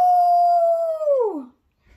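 A human voice imitates a wolf howling at the moon, one long sustained howl that bends downward and fades out near the end.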